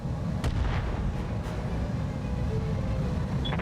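Heavy mech weapons fire in a BattleTech battle, a dense continuous rumble of booming shots with a few sharper cracks near the start, loud and sustained throughout.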